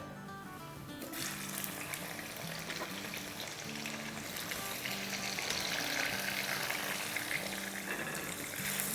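Small, medium-cut onions go into hot oil with crackled cumin in a karahi. After about a second, a bright sizzle bursts up and holds steady and close. Faint rhythmic background tones run underneath, and no one speaks.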